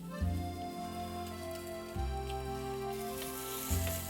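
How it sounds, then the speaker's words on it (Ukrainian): A steady soft sizzle of lamb liver and lard frying in a pan, with low humming tones and a few dull thumps underneath. "Нехай смажиться"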